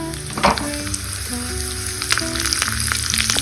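Loud, crackling sizzle of curry leaves dropped into hot ghee with mustard seeds, with sharp pops and spatters over a steady frying hiss, close up.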